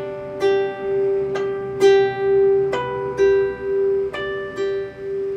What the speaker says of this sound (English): adding in my ring finger and striking the artificial harmonic and then the open string like this